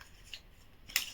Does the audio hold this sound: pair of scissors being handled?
yes